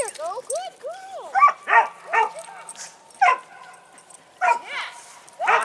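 A dog gives close, excited yips and high whining barks in short bursts, and a person's voice is heard among them.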